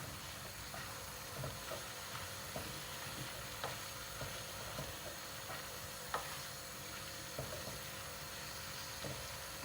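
Chopped onions and garlic being stirred in a pan give a quiet, steady sizzle with irregular soft scrapes and clicks from the utensil, continuing evenly with no talking.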